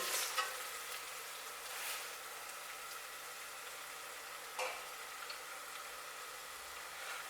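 A spoon stirs a pot of potato soup in a few quiet, brief scraping and clicking strokes, faint and close, with long soft gaps between them and no talking.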